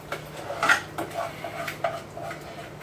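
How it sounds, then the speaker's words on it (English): A pot of chili tipped out onto freshly cooked macaroni, heard as faint, scattered metallic clanks and scraping knocks of pot and utensil at close range. "I'll take this here pot and dump it straight into your"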